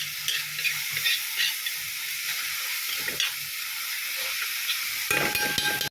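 Onion, ginger and garlic frying in ghee give a steady, close sizzle with a bright hiss, which swells louder near the end as stirring continues.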